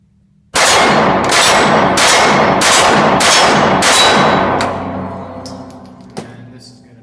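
Seven rapid, evenly spaced shots from a Glock 43 pistol with an extended magazine ring out loud and close, each sharp crack trailing into echo before a fading tail and a lone metallic clink.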